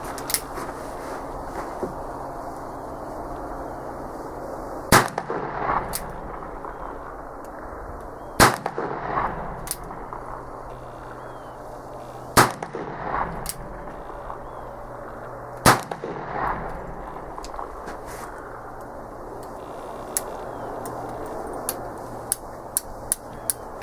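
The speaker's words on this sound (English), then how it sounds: "these will be the first shots fired out of this revolver." Four sharp gunshots from a Pietta 1862 Colt Sheriff's Model .44 revolver crack out several seconds apart, loud and close, with quiet handling noise and small clicks between shots.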